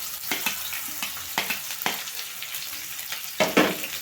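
Sliced onions and chillies are dropped into hot oil and stirred for a potato curry, a close sizzle and frying hiss broken by repeated scraping stirs at irregular intervals, a louder burst near the end.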